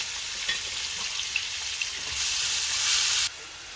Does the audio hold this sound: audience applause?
no